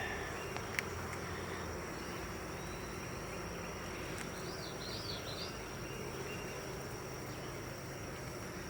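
Honey bees buzz around an open hive in a soft, continuous hum, quiet and even throughout, with a few faint bird chirps partway through.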